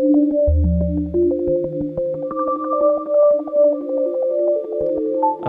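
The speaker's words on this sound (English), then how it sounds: "the arpeggiator is going to randomly scroll through all of them at this rate" Detuned sine synth in Ableton driven by an arpeggiator that steps randomly through chord notes, a steady stream of clear, sustained tones at moderate pace with no voices.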